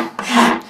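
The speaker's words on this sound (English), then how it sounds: "filing it here." A file rasps along a steel knife blade from a flint-and-steel knife making kit, one loud, close stroke lasting under a second.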